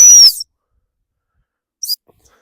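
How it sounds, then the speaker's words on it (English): A dog training stop whistle blown outdoors, one sharp loud high-pitched blast followed by a second shorter, quieter pip after a pause, with silence between. "which is why I always start with the stop whistle"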